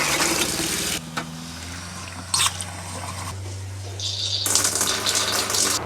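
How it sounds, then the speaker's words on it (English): Trailer water taps opened to flush bleach water through the lines. Water gushes and splashes loudly in bursts, with a steady hum from the pump and drips in between. "Turn on all your taps to make sure that the bleach water gets all through all the"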